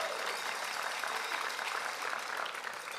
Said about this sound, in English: Yeah, that deserves a cheer as well.